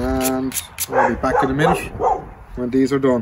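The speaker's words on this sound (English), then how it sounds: "you can hear the dogs barking in the background there." Dogs barking in the distance behind someone talking close to the microphone, several sharp barks scattered through the speech.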